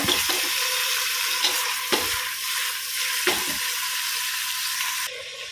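Green chillies frying in a generous amount of hot oil, giving a dense, continuous sizzle close by, broken by a few soft stirring knocks, with no voices.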